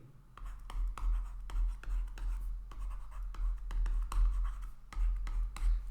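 Pen or marker writing by hand on a board during a lecture, a steady run of short scratchy strokes with brief pauses, close and fairly quiet.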